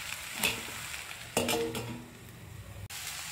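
Ivy gourd (kovakkai) fry being tossed in an oiled pan, heard as a soft sizzle broken by a few sharp scrapes and clinks of a spoon against the pan.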